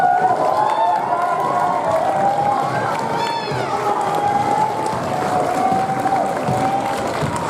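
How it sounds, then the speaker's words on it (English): An audience applauds at an opening ceremony, a continuous wash of clapping from a large crowd that holds steady at even loudness for several seconds. "we're getting a lot of applause"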